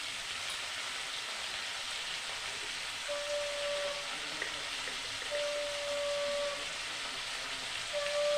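Rohu fish with new potatoes and cauliflower frying in a pan with turmeric and salt, a steady loud sizzle and hiss running throughout, with a few faint tonal whistles partway through.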